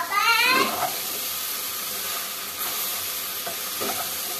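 Okra fry being stirred in a hot pan until its sliminess cooks off, a steady sizzle and hiss under repeated scraping strokes of a spoon, close and clear with no talking.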